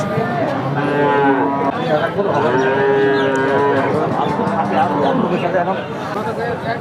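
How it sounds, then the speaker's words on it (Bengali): At a cattle market, skinny, bony cattle let out loud, drawn-out moos one after another across the whole stretch, close by, over a faint background murmur of people. "শুকনো হাড্ডিসার গরু"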